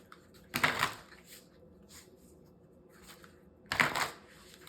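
A deck of cards shuffled in two brisk riffling bursts, the second after a pause with faint handling noises between, close and fairly quiet.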